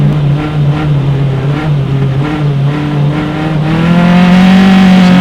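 Race cars at a Mid-Ohio SCCA qualifying race, engines roaring loud and close with a steady droning pitch that climbs as they accelerate, sustained throughout.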